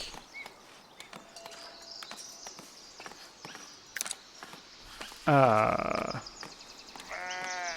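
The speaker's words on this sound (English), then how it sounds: "We just spawned 3 sheep" Sheep in the Foundation video game bleat twice in loud, wavering calls, close by, over a quieter bed of clopping hooves and small clicks.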